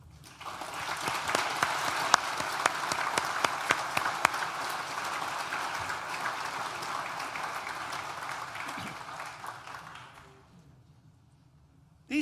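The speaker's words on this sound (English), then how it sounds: "Please join me in a round of applause to thank them for their contribution." Steady, dense applause from a large audience at a university art and design graduation ceremony, thanking course mates, professors and staff; it holds evenly for about ten seconds, then fades quickly into near silence.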